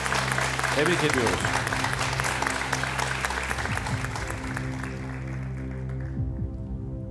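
A studio audience applauds loudly and steadily at a Quran recitation contest, a dense clapping that fills the room, while a presenter speaks over it.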